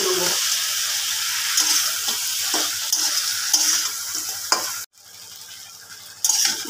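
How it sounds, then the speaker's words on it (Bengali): Bhetki fish bones stir-fry in a hot spice paste, a steady sizzle broken by repeated scrapes and stirring strokes of a spatula, with a brief gap near the end before the frying resumes loudly. "এই মশলার ওপরেই এই মাছের কাঁটাগুলো আমি দিয়ে দিলাম, দিয়ে আরও একটু কষিয়ে নেবো।"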